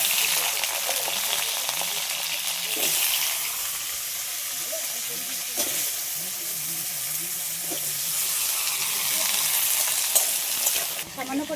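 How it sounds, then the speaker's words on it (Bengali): Potatoes, cut and washed, fry and sizzle in a pan while being stirred, a steady close hiss with a few brief scraping knocks, heard alone without talk. "কেটে ধুয়ে রাখা আলুগুলো এবার একটু লাল লাল করে আগে ভেজে নেব।"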